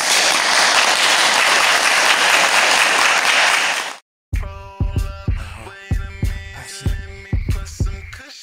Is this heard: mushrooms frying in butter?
no